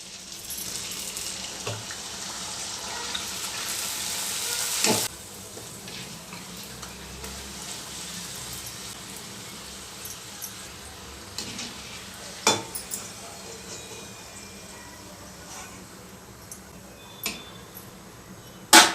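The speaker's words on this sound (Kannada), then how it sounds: "ಪೂರಿನಾ ಈಗ ಎಣ್ಣೆಗೆ ಹಾಕೋಣ ನೋಡಿ ಎಣ್ಣೆ ಕಾದಿದೆ" Puris dropped into hot oil give a soft, continuous frying sizzle with occasional clinks and louder splashes as pieces go in, fairly quiet and without speech.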